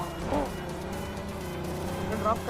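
Vehicle engine in the PUBG battle royale video game, a steady car drone running throughout with brief tire-squeal-like bursts near the start and end, under music or game sounds.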